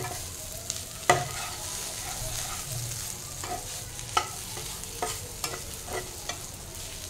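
Chapati pieces fry and are stirred in a pan, with a steady soft sizzle broken by occasional sharp scraping knocks from the spatula, close by and with no voices.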